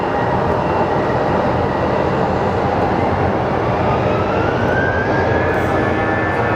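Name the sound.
American Airlines flight 854 airliner at Phoenix Sky Harbor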